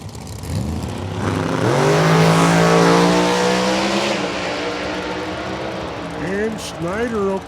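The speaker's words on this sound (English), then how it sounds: "Got nitrous over here in Irwin's lane and a blower over in Snyder's lane." Drag racing cars at Lucas Oil Raceway, one nitrous-fed and one with a blower engine, launch with a loud rising roar that climbs through the gears and then fades, with a commentator talking over it.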